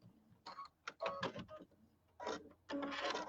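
A sewing machine runs a quarter-inch Q02 piecing stitch in short, stop-start bursts of rapid mechanical stitching, fairly quiet and close.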